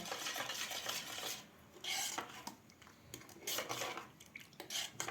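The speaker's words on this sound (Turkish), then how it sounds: "2 yemek kaşığı mayamız, bir tatlı kaşığı şekerimiz bunu karıştırıyor." A spoon stirs yeast and sugar together in a bowl for bazlama dough, making quiet, close scraping and clinking strokes in uneven bursts with short pauses between them, and no voices.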